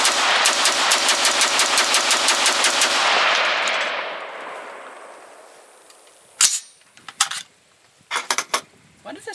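Rapid automatic fire from K1A1 and XM177E2 short-barreled rifles on an outdoor range, a loud fast string of sharp shots lasting about three seconds that rings out and decays, followed by a few scattered clicks and handling noises.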